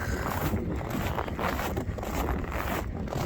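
Steady wind roaring across the microphone in cold, snowy weather at about -35°C, a constant broadband rush with gusty swells throughout.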